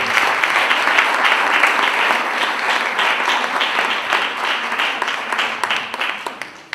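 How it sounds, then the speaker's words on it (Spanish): An audience at a panel event gives a loud, sustained round of applause for a speaker, many hands clapping steadily throughout and thinning slightly toward the end. "Les pido un fuerte aplauso para Sergio, por favor."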